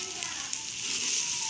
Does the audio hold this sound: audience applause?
no